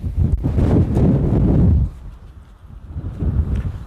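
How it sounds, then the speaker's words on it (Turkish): Wind buffets a microphone with loud low rumbling gusts that ease off partway through, then build again more softly. "Çok rüzgar var bugün."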